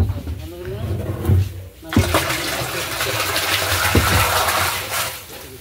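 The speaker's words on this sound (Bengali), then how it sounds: "এবার টাঙ্কির ভিতরে ঢেলে দেওয়া হচ্ছে।" Water carrying live young fish fry gushes and splashes loudly into a fish tank during a delivery, a rushing pour that swells midway and keeps going, with voices faintly in the background.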